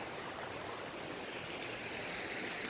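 Water rushes steadily in a continuous broadband wash, a river flowing nearby at low summer level, with no voices or other sounds.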